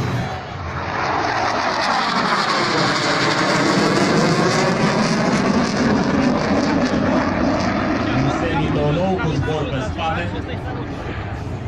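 Loud propeller airplane engine performing aerobatic maneuvers at an air show at Focșani airfield, droning continuously with rising and falling pitch as the plane swoops, close and dominant throughout.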